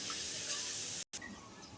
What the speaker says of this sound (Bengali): এবার আমি এতে তেজপাতা দিয়ে দিলাম, তারপর পেঁয়াজ কুচি, এগুলো আমি বাদামি রঙে ভেজে নিব